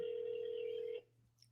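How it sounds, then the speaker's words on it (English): A telephone ring-back tone sounds steadily during a real estate prospecting call, a single sustained tone heard over the line that cuts off after about a second, followed by quiet. "You guys can hear the phone ringing?"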